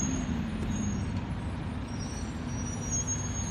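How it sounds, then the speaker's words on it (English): Garbage truck idling outside with steady low engine rumble, a continuous heavy-vehicle drone throughout with faint higher hiss, no talk. "I got a garbage truck over there."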